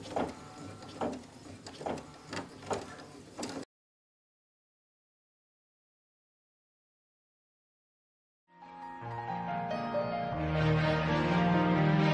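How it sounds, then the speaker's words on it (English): A sewing machine runs a zigzag stitch around an appliqué face and tail, with a rapid rattling burst, then several seconds of silence, then a steadier, louder mechanical run. "We will now stitch the zigzag around the face and tail."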